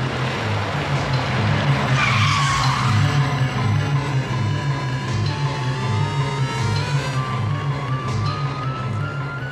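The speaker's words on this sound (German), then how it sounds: "Ich fahre schneller und schneller und schneller." A car is driven faster and faster, a steady loud engine drone with tire noise that runs unbroken throughout.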